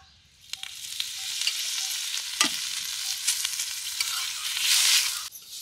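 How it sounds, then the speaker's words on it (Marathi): Onions stir-fried on a hot tava for a drumstick curry in black masala, giving a steady close sizzle with scattered sharp pops and a brief louder crackle midway. No voices. "आता तव्यावर परतून घेते."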